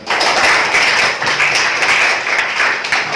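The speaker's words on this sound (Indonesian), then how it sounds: "Beri aplaus dulu untuk kelompok 2." Applause from a classroom group of students for a fellow group after a discussion, steady dense clapping filling the whole moment at close range.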